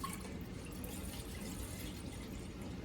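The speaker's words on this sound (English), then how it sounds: "we're gonna put some water in our pot" Spring water pours steadily into a pot with a soft, continuous splashing rush, fairly quiet and uninterrupted throughout.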